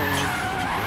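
A rally car in EA WRC understeers and skids on hot asphalt into a barrier, tires scrubbing loudly over a steady engine roar for a brief, sustained moment.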